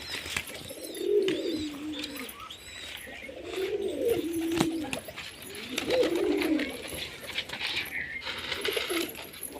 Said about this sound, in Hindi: अने आ रहा अपना कबूतर।